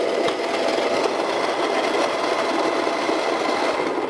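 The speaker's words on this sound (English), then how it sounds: "you always want to start your grinder first and then drop the beans in." A Baratza Encore burr coffee grinder running and grinding beans, a steady close whirring motor drone with a rough gritty texture that holds constant throughout, with no speech.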